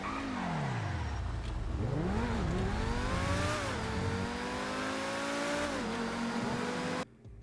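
A Grotti T20 sports car in GTA 5 drives alone, its engine revving up and down through gear changes with rising and falling whines, loud and close throughout before cutting off abruptly at the end.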